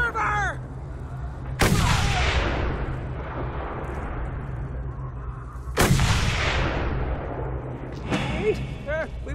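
Gunfire rings out during car combat in the Mad Max video game: two loud, sharp blasts with long echoing decay, then a smaller shot near the end, over steady engine rumble.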